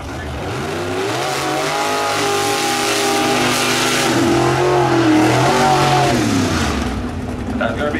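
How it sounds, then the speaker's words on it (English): A 1955 gasser drag car races down a quarter-mile drag strip, its engine revving loudly and climbing through the gears in a close, sustained roar that tapers off near the end. "Here's a collection of video I've shot of the car in action at the quarter-mile drag strip."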